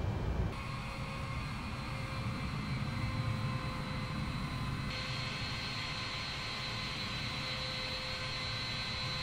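Boeing 787 jet engines taxiing in Microsoft Flight Simulator, a continuous smooth turbine drone with steady whining tones that brighten partway through, even and unbroken, no talk.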